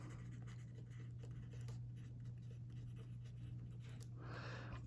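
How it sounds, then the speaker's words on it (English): A pen writing by hand on paper, close soft scratchy strokes in short uneven runs over a steady low electrical hum. "I'm just going to write BTW,"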